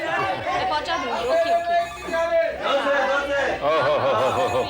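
An old-style telephone bell rings in a home during a TV drama scene, its steady tone running beneath overlapping conversation and chatter.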